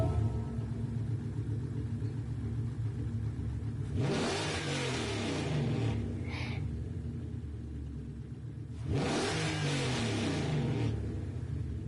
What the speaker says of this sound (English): that's what your car sounds like in real life